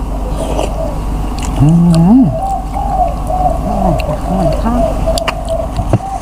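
Birds coo and call in short, scattered phrases over a steady low background rumble, with a few faint clicks and knocks.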